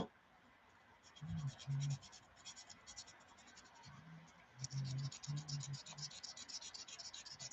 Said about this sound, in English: I'm sanding with 220, and it's not even like phasing it.